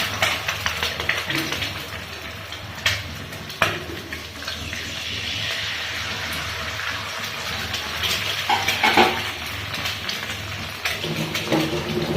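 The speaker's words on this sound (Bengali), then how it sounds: "এই প্রথমে আমি দুটো ডিম প্রথমে ভুজিয়া করে নেবো" Two eggs scramble in white oil in a pan, giving a steady, close sizzling hiss. Occasional clatters and scrapes rise over it.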